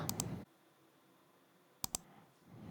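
Computer mouse clicks come in two crisp close pairs, one at the start and one near the end, separated by a near-silent pause with faint background hiss.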